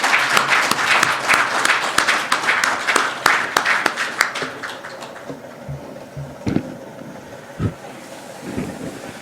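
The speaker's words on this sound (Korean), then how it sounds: "박수로 환영해 주시면 감사하겠습니다." Audience applause welcoming a lecturer at a Korean forum lecture on asset management: dense clapping fills the first half, then thins into scattered claps and soft room noise.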